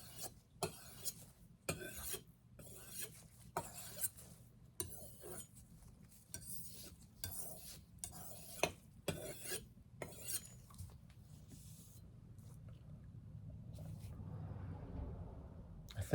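A knife stroked across a whetstone in repeated rasping scrapes at a steady rhythm, close and fairly quiet, then giving way to a softer continuous rubbing.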